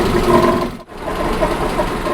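A car engine idling steadily during an engine decarbonization service, a continuous close mid-pitched hum with a faint knock, briefly cut by a short dropout partway through, no talk.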